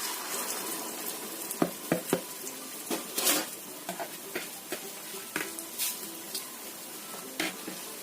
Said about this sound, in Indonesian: Biarkan sampai agak panas dahulu, dan kita goreng.